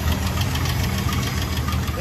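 A 1970 International Scout engine idling with no exhaust or muffler fitted, a loud, close, rough steady rumble with knocking pulses, a voice faintly under it.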